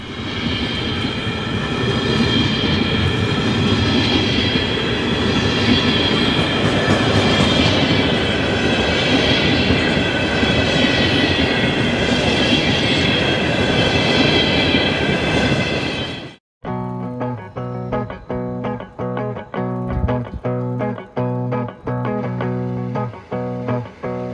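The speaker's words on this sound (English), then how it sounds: "Here we see Vermont Railway train BDRD passing the depot shortly before the move." A Vermont Railway freight train passes the depot, a loud continuous rumble and roar up close that gives way to a rhythmic clickety-clack of wheels over rail joints with faint squeals.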